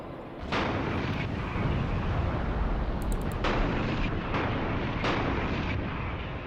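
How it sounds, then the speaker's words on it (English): Continuous artillery fire and exploding vehicles in a wargame set in an Iran–Iraq battle form a dense, unbroken roar of distant blasts, punctuated by several sharper explosions and brief crackles. "That's a lot of enemy artillery coming in, but it's also a lot of vehicles cooking off, and a lot of destroyed vehicles simply exploding."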